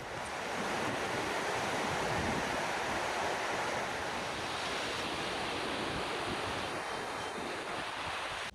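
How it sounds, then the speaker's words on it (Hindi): Cool wind blowing outdoors in a chilly open place, a steady broad rushing roar like surf that stays loud and unbroken throughout, with no voices. "ठंडी ठंडी हवा चल रही है"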